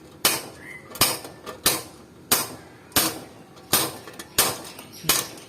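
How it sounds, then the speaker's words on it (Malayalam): An Induro impact driver loosens a screw, its hammering mechanism firing in sharp, loud, evenly spaced metallic bursts, about eight close impacts in a row with no talking. "നമുക്ക് ഈ ഒരു സ്ക്രൂ ഒന്ന് അഴിക്കാൻ നോക്കാം"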